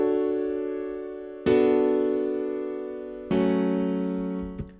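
Three sustained keyboard chords played in a progression with a minor seventh on the second chord, each struck cleanly and left to ring and decay before the next, ending with a brief soft tap.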